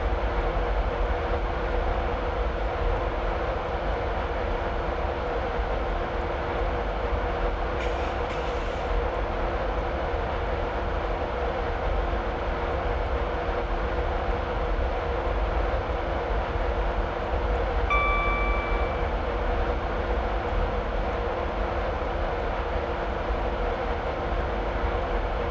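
A Class 91 electric train cruises at around 100 mph on the East Coast Main Line between Newcastle and Edinburgh in Train Simulator 2016, with a steady cab drone, rail rumble and a brief high tone partway through.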